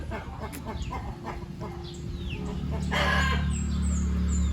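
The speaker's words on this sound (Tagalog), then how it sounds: "Sa sobrang init ng panahon, ang mga manok nasa lilim lang siya." Rhode Island chickens cluck and crow on and off in a hot farmyard, close and moderately loud over a steady low hum, with a swelling rooster crow near the end.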